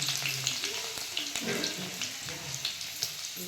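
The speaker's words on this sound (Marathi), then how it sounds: "तेल तापाय ठेवलंय तेल ओतलं मस्त लसूण टाकून" Garlic frying in hot oil in a kadhai, a continuous close crackling sizzle with small pops and light stirring throughout.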